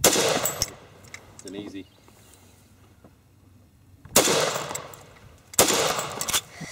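A Browning 1919 machine gun fires outdoors in short, loud bursts: one brief burst at the start, then two longer rattling bursts later, separated by quiet stretches with a few words spoken.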